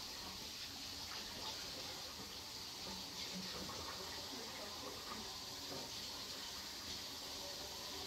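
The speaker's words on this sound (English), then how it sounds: "wash your hands" Water runs steadily from a tap while hands are washed, a quiet, even hiss that holds for several seconds with no other sound standing out.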